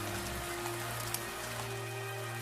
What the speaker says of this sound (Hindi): कड़कती बिजली के साथ साथ मूसलाधार बारिश भी शुरू हो गई।